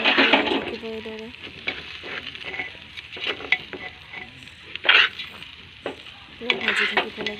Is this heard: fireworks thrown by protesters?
no